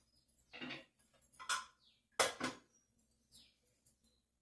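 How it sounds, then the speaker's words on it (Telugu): A pressure cooker pot set down on a home gas stove, giving a few short metallic clanks and knocks spread over several seconds, close and fairly quiet, with no talking. "నేనైతే కుక్కర్ గిన్నె పెడుతున్నానండి"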